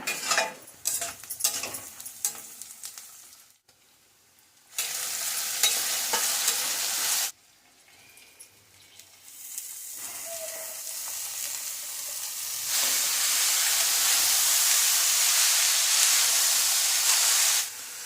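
Radish leaf greens are stir-fried in a hot pan, giving bursts of spatula scraping and stirring followed by long stretches of steady, loud sizzling and hissing, with no talk.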